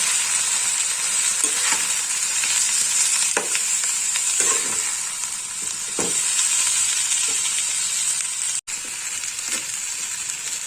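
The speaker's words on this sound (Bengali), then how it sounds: "এবার ভালো করে মশলাটা মিশিয়ে নেবো" A spice paste of chili powder and turmeric is stirred into eggplant frying in a pan, giving a steady close sizzle with soft scraping strokes of the spoon throughout, no voices.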